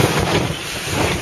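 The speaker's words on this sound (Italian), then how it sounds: "rinforzato il vento" Strong wind buffeting a sailboat at sea on a passage between Venice and Trieste, a loud steady roar of gusts and wind noise across the microphone, with water rushing underneath and no voices.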